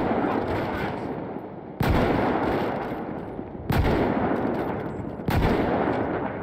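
Heavy gunfire rings out in a GTA V zombies mode firefight against mercenaries: three loud, sharp shot bursts, each decaying into a long, noisy echoing wash, with no one talking.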